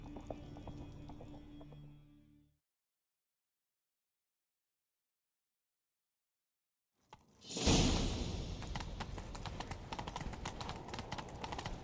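Rhythmic hoofbeats of a horse galloping in the video game The Witcher 3, loud and close, starting abruptly after a few seconds of silence and continuing steadily with some whooshing.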